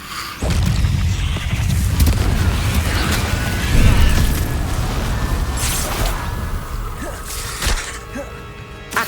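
A Confringo explosion spell in the Hogwarts Legacy video game, with a sudden deep booming burst followed by rumbling, crackling debris and magical effects that trail off, loud and close.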